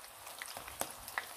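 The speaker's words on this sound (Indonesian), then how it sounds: "Usahakan menggorengnya minyak secukupnya" Kohlrabi leaves fry in a modest amount of oil, making a faint, steady sizzle broken by a few small pops and crackles.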